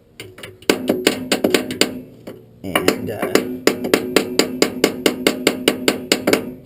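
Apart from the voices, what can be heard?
hammer tapping bearing cups into a Bobcat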